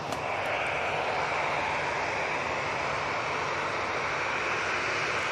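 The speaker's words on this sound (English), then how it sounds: "that TUI that we were looking at is now going out" TUI passenger jet departing Manchester Airport, a steady broad roar of jet engines heard from a distance, sustained and even throughout with no talking.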